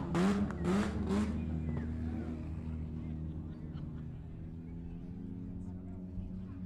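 Race cars in a heat race at i-37 Speedway, their engines droning and revving at a distance as a steady, fairly faint hum with shifting pitch throughout.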